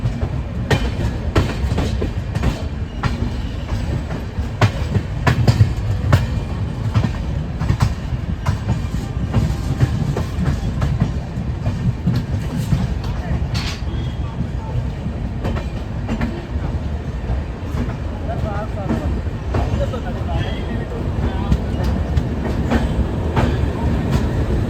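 A Humsafar express train rolls steadily toward Amritsar Junction, heard from inside as a continuous loud rumble with rhythmic clickety-clack of wheels over rail joints and faint metallic squeals, no voices.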